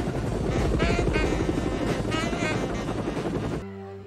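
Loud, close helicopter rotor thrum with steady chopping pulses from a scene in the 1987 film Predator, continuous for most of the stretch before cutting abruptly to a quieter low hum near the end.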